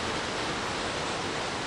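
Joren Falls in Izu pours down in the rain as a dense, steady wash of falling water, loud and continuous with no voices over it.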